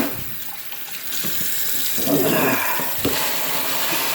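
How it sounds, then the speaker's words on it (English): Hot water runs steadily from a kitchen sink tap, a continuous close splashing hiss that thickens briefly midway as the stream hits the basin, with no voices. "Use hot water and let it run for a minute."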